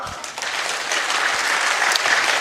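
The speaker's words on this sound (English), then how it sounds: "use your hands to warm yourself by clapping like you actually own your hands" Audience at a youth empowerment summit clapping together, a dense sustained burst of applause that builds slightly and holds steady, with little talk over it.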